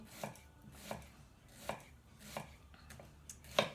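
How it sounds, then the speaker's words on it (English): Several sharp knife chops on a board, cutting mushrooms at a steady, unhurried pace, close and fairly quiet, with no talking. "So we start that by chopping up the mushroom."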